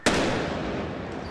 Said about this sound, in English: causing this explosion